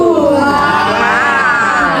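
A crowd of visitors cheers and shouts together at a mystery spot attraction in California, a loud, close burst of mixed voices lasting a couple of seconds.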